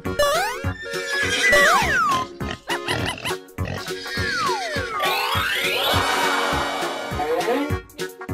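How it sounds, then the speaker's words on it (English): A horse neighs in a loud, rising and falling whinny, with a squealing pig-like call just before it and snorts mixed in, close and busy over a sound-effect track. "Horse."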